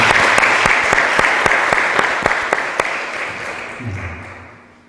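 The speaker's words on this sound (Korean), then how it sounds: "우리 감사의 박수 드리겠습니다" A church congregation at Toronto Union Methodist Church applauds a visiting pastor, a dense burst of clapping with a few sharp louder claps standing out, which thins and fades over the last second as a low voice begins underneath.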